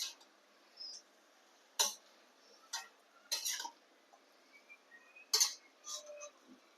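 Fried chicken pieces being stirred in a pan for honey glaze, with intermittent metallic scrapes and clinks of a spoon against the pan, spaced irregularly, close and quiet.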